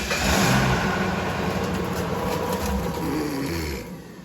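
Ford Customline Crown Victoria engine restarted and running in a garage, a steady mid-pitched idle rumble that stays loud and even before easing off near the end.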